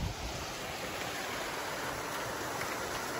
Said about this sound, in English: Got a little waterfall, baby.